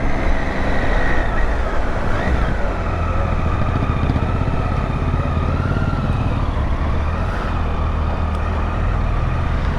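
Riding a motorcycle on an open road on the way from Zanskar and Leh: a continuous loud engine drone with heavy wind rush, steady throughout with slight pitch shifts as speed changes.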